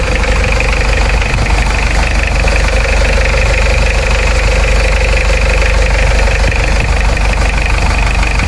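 A car engine idling in a repair shop, with its air cleaner and turbo intercooler not yet fitted, giving a close, loud, steady hum with constant vibration and no variation or talk.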